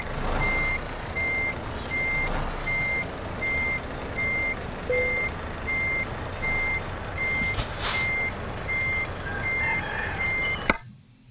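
A truck in Euro Truck Simulator 2 sounds its reversing alarm, a steady, evenly spaced beep repeating over a constant engine rumble, with a brief hiss of air brakes near the end.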